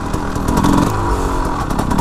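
Motorcycle engine blipped on the throttle while the bike is held at its balance point in a wheelie, a close, loud, rough burbling roar lasting a couple of seconds with no voices.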